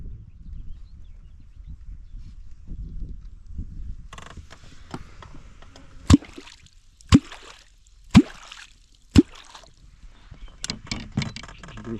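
Four sharp, evenly spaced hollow strikes on the water from a kwok catfish call used from a boat on the Dniester, about a second apart, followed by a few softer clunks over quiet water.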